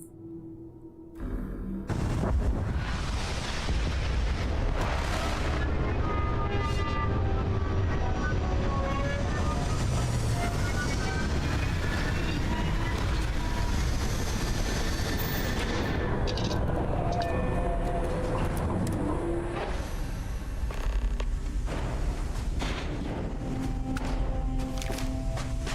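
Spaceship coming in to land in Starfield, opening with a sudden loud roar that holds as a sustained thrusting rumble with rising and falling whines and blasts, then easing into a steadier hum near the end.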